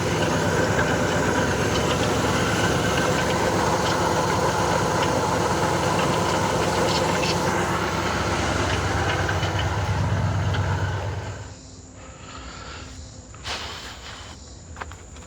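A 1977 Pontiac LeMans engine idles with a steady rumble for about eleven seconds, then cuts off abruptly, leaving quieter background sounds and a couple of faint knocks.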